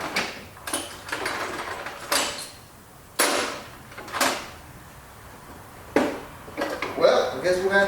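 A hammer taps on a stripped puller on a 2004–2012 Chevy Colorado engine, giving several sharp metallic knocks spaced irregularly, close and fairly loud, with a quiet workshop background between strikes.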